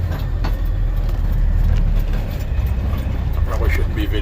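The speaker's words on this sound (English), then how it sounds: "I'm just going to let the Jake run us down." A truck's Jake brake holds back the rig as it slows through a turn into a yard, giving a steady low rumbling drone close up that runs without a break under the cab noise.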